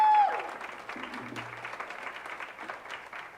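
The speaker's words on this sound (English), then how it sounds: "can we give them a round of applause for all that great information?" An indoor audience at a parent leadership team meeting applauds with a soft, steady patter of many hands clapping at a moderate distance, fading slightly toward the end.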